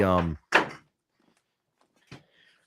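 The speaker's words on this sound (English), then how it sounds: "I have a kitten that is now knocking things over." A few scattered thuds and clatters, one sharp knock followed by a softer bump later, as a kitten knocks small objects over nearby; a voice speaks briefly at the start.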